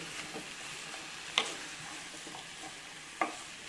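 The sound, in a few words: stirring bottle gourd greens in a pan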